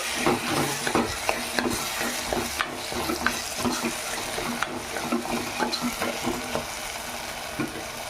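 Turmeric being stirred in a frying pan while cooking a traditional rooster curry, a continuous sizzle under repeated rhythmic scraping strokes of the spoon, close and fairly loud.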